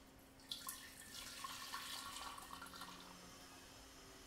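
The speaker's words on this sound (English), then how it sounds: "put it into our jar, and then we're just going to pour it straight on through." Bone broth poured from a pot through double-layer cheesecloth into a jar, a soft trickling stream of liquid that rises then tapers off, ending in a sharp clunk.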